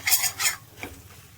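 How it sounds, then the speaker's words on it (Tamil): Potatoes stirred in hot oil in a pan for masala dosa filling, with two quick bright scrapes of a utensil against the pan followed by a fainter clink and a soft sizzle underneath. "உருளைக்கிழங்கு போட்டுட்டு நல்லா எண்ணெயில் நம்ம இந்த மாதிரி ஒரு 2-3 நிமிஷம் நல்லா அப்படியே வதக்கி விடணும்"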